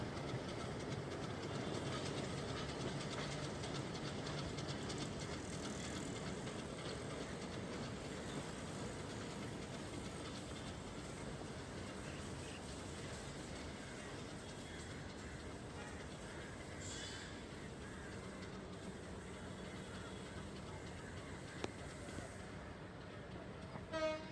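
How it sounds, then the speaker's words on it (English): A Canadian Class M4 diesel locomotive on Sri Lanka Railway heads back to its yard with a steady engine rumble and rolling wheel noise. The sound stays continuous and fairly distant, and a horn sounds faintly. "you can see the Canadian Class M4 locomotive we mentioned in the previous video, heading back to its yard"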